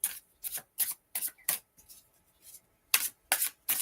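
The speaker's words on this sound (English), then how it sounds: "we got to keep shuffling until something happens and a card flies out or multiple cards fly out." Tarot cards are shuffled in a series of quick, crisp riffling bursts with short pauses between them, close and fairly quiet, with no talking.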